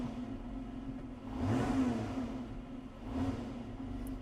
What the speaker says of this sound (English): Here's the RPMs, and I'll give it some gas.